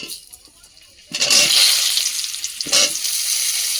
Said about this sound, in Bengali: এগুলো কিন্তু এখন তেলে ভেজে নেব। তো আলুগুলো দিয়ে দিচ্ছি